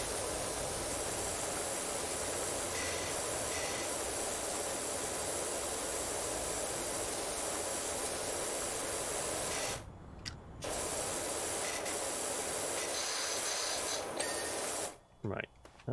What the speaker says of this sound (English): I can only touch it with high-pressured water spray.